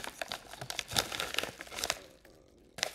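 A paper envelope is crinkled and rustled by hand as a medal is slipped inside, giving a run of close, dry crackles and rustles for about two seconds before a short quiet gap and a final crinkle.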